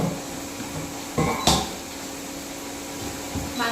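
A pot of cooked rice is lifted off a stove in a home kitchen, giving a short metallic clunk and scrape against a steady background hum, followed by a second softer knock.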